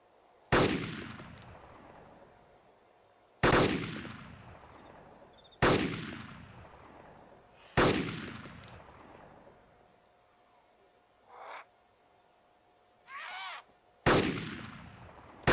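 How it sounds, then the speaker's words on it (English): Rifle shots from the video game DayZ: five loud, sharp cracks spaced a few seconds apart, each trailing off in a long echoing decay, with two fainter, softer sounds between the last shots. "Sometimes you'll be able to see your shots, sometimes you won't."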